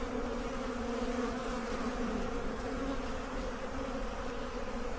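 Honey bees buzz at a hive entrance in a busy spring yard, with pollen coming in; a dense, continuous close drone of many wings, steady and alone, without voices.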